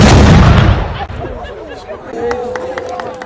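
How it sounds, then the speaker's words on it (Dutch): A loud, close cannon blast booms at the start and rumbles away, followed by people chattering and calling out. "Als een ervaren kanonier vuurde de wethouder het kanon af."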